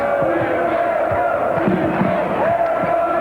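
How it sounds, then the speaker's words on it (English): A noisy arena crowd at a 1981 college basketball game roars steadily in support of home team UCLA against Oregon State, a dense continuous wash of voices with scattered shouts and sneaker squeaks. "Noisy crowd in support of the home team,"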